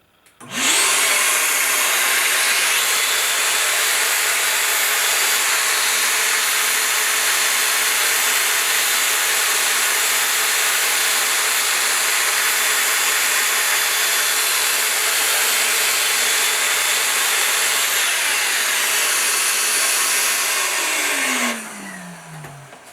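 A Festool random orbital sander runs with a shop vac attached, a loud steady whir with a low hum from about three seconds in, holding for some twenty seconds before spinning down near the end.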